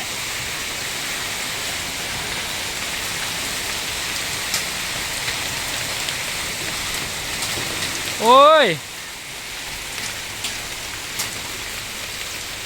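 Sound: rain falling at night

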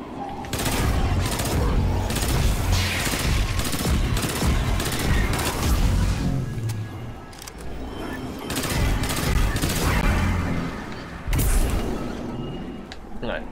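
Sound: gunshots with a boom in the video game Destiny 2

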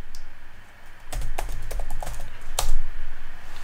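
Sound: typing a command on a computer keyboard

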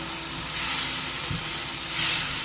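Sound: chili powder being mixed and frying in a pan

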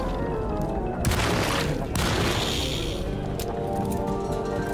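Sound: shotgun shots in Alone In The Dark video game

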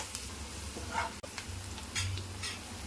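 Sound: onions frying with turmeric

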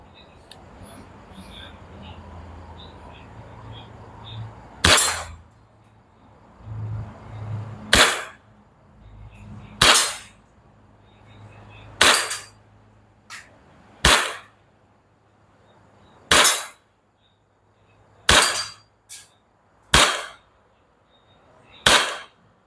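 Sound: WA M1911A1 gas airsoft BB pistol firing repeatedly

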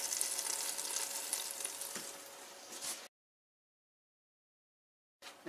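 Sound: boneless chicken thighs sizzling in an electric air fryer

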